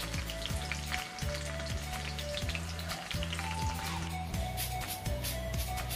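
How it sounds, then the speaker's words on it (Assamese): Chickpeas sizzle and crackle steadily as they fry in a pan, with a dense, continuous spatter of popping under a faint, regular low hum. "এতিয়া চানাখিনি শব্দ শুনকচোন।"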